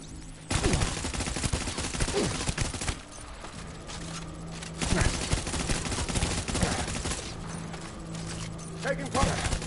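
Gunfire in the video game Death Stranding: dense, continuous volleys of rapid shots and mechanical clatter fill the whole stretch with a sustained hum beneath, while voices speak over the battle.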